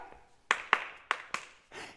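Several sharp hand claps spaced in an uneven pattern, close and crisp against a quiet background, followed by a softer brushing sound.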